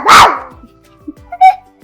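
A voice imitates a dog, giving one loud bark-like yelp followed by a few softer yips and a short high whimper, close and otherwise quiet.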